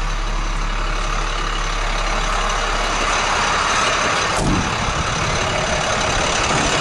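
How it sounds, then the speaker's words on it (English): An International 4300 truck with a 466 diesel engine idles nearby in a loud, continuous low rumble that holds steady throughout with no one speaking. "Nice running 466 motor."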